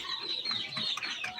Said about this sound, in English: That is the Rhode Island red rooster